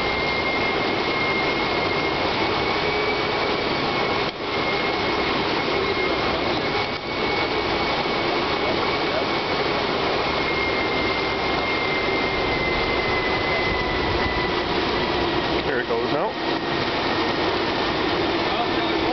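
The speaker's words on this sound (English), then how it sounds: "In a second here, we'll see the rotor speed slow down." A 5 kW river kinetic turbine's rotor slows under inverter load, giving a steady, loud whine with a sustained tone under broad rushing noise and brief dips; no speech over it.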